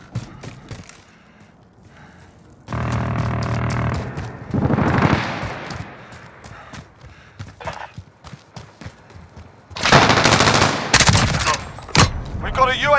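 Bursts of gunfire in Call of Duty: Modern Warfare, loud volleys arriving in separate clusters between quieter gaps, with voices and other game noises mixed in between.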